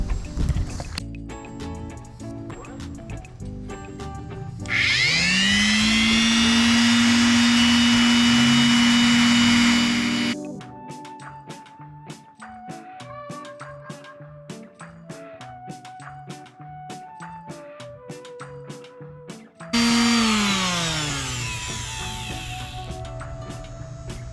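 A power sander whines steadily on kayak plastic for several seconds, stops, then starts up again near the end, loud and close, with clatter and tapping between runs.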